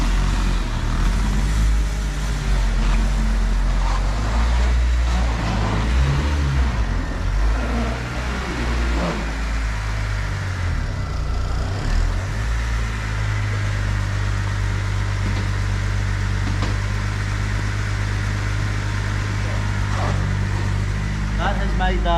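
A manual car with an aftermarket clutch pedal being driven, a steady low engine drone with shifting rev changes and rumble, under frequent talk from people inside.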